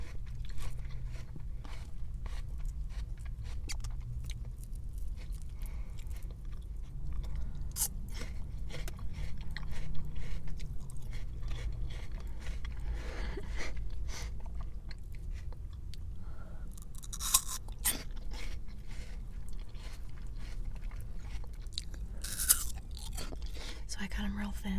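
Thin, crisp apple slices crunch in close, sharp bites followed by softer chewing, scattered over about twenty-five seconds with quiet talking between bites.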